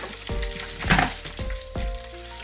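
Garlic, shiitake mushrooms and coriander root dry-frying in a pan, with a steady close sizzle broken by a few sharp scraping stirs.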